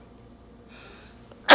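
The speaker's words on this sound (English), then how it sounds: "Had to sneeze there." A single loud, sharp sneeze bursts out at the end after a quiet breathy lead-in.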